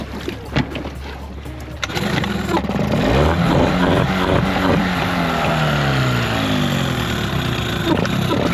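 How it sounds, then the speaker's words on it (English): A few sharp knocks, then a small outboard engine on a boat tender, with worn spark plugs making it hard to start, catches and runs with a loud, steady buzzing drone that wavers in pitch. "The tender engine spark plugs were on their way out, making it very hard to start"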